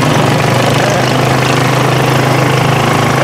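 A motorbike engine idles close by, a loud, steady buzzing rumble that holds without change.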